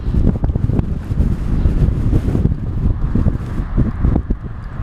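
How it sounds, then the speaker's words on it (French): Strong coastal wind buffets the microphone in continuous gusty roars, loud and close, with no voices, heard while cycling. "le vent il souffle bien, voilà, il souffle"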